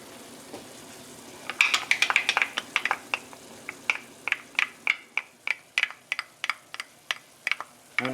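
Garlic sizzles and crackles in a pan over medium-low heat with diced vegetables, a steady run of sharp popping spatters close by that thickens into rapid crackling, with no talk over it.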